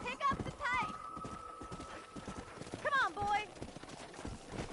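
Horse hooves clip-clopping in the Red Dead Redemption video game, with two loud rising neighs near the start and again around three seconds, while someone speaks briefly and music or ambience runs underneath.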